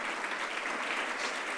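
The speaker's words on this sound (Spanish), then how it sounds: "por eso hay que aplaudirles." An audience applauds steadily and loudly at a cultural project presentation, with dense continuous clapping from many hands and no pause throughout.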